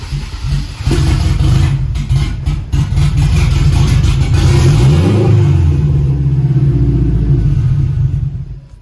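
Turbocharged K24 car engine revving in a garage, a loud sustained roar with several throttle blips climbing and falling in pitch, then cutting out at the end.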